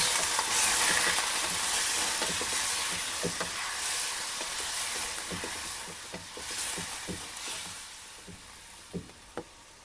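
Tenderloin sizzles loudly in a pan while frying for Ilocano igado, a dense steady hiss with scattered clicks and scrapes of stirring. The sizzle gradually eases toward the end.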